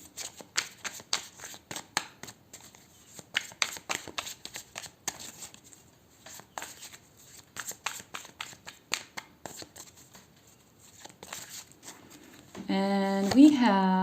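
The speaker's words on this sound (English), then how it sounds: "So just gonna give it a few more shuffles" Tarot card deck being shuffled by hand in repeated riffling bursts, close and crisp, with a voice speaking briefly at the end.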